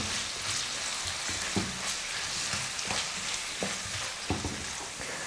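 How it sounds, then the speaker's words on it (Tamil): Onions sauté in a pan toward golden brown, a constant crackling sizzle with periodic scraping strokes of a spoon stirring them, near and even in level, with nobody talking. "வெங்காயம் வந்து பார்த்திங்கன்னா நல்லா பொன்னிறமாக கலர் மாறுற வரைக்கும் நம்ம வதக்கணும்"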